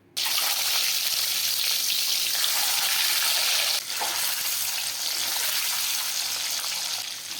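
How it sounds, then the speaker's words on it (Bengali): Eggs frying lightly in hot oil in a pan while making egg korma, a steady broadband sizzle and crackle that holds loud and even throughout, with a brief dip partway through and no talking. "এরপরে এই তেলের মধ্যে আমি আবার ডিমগুলিকে ভেজে নেব হালকা করে"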